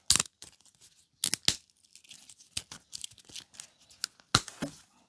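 Snipping and tearing through fine copper wire coil from a vintage computer CRT monitor, a series of close, sharp irregular crunches and snaps with short pauses between.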